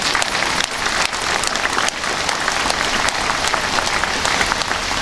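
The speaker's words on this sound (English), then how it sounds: "just to give a warm round of applause to those family members" A seated audience breaks into warm, sustained applause for the family members of veterans at an entertainment show, dense steady clapping lasting throughout with brief dips, loud and close with no speech over it.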